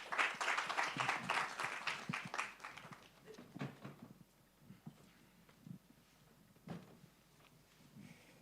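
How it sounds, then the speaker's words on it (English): Audience applause at a presentation event, a burst of clapping for about three seconds that thins into scattered claps and faint room noise. "Please give them a round of applause."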